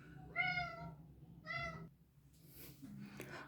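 A kitten meows twice indoors, close and clear with a short pause between the calls, followed by faint household rustling as the door it pushed open settles.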